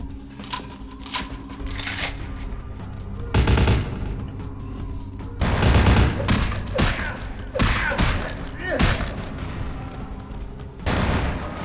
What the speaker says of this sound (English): They're just shooting their own men to get at me.